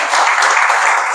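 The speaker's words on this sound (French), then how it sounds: "on peut applaudir Frédéric pour le remercier." Dense audience applause at a conference after a speaker's introduction, a loud continuous wash of many hands clapping close by, with no voices over it.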